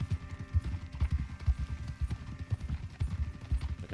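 Horse hooves clip-clop at a lively, even rhythm throughout in Red Dead Redemption 2, close and clear over faint background ambience.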